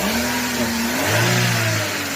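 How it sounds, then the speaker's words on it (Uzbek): A motorbike engine revs on the throttle, a loud, close, continuous drone whose pitch climbs and then holds steady as the rider opens it up. "Motor haqiqiy dovushi bu"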